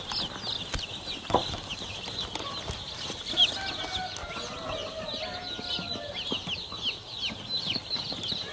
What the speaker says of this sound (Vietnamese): Gà con sẽ chơi rất là tự do đến tận chân quây.